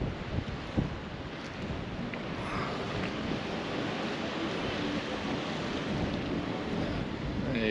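Strong gusting wind buffets the microphone on the coast at Ogmore Deeps while sea fishing, a constant roaring rush with surf mixed in, steady and loud throughout.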